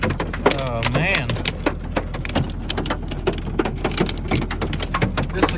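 A spring hailstorm patters and drums densely on surfaces outdoors, with irregular sharp impacts throughout while someone talks over it.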